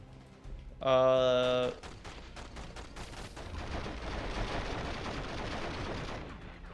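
Shotgun blasts in The Matrix: Path of Neo follow a brief tonal sound as a run of sharp reports. Loud, rumbling gunfire noise then builds and carries on.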